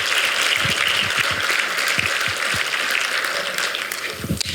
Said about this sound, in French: Je crois que vous pouvez vous applaudir.